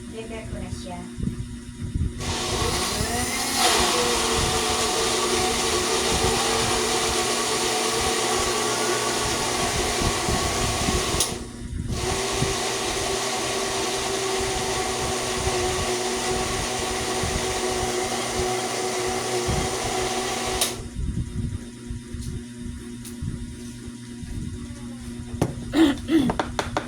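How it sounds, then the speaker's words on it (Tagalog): A blender roars steadily for most of the stretch, with one brief stop and restart, then cuts off; a voice speaks quietly underneath. "Ito po ay i-blender ko na."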